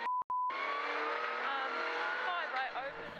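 A 4WD rally car on a slippery gravel stage of the Canterbury Rally in New Zealand runs off the road: a loud, continuous engine roar with shifting pitch and tire scrabbling, following a brief electronic beep at the start.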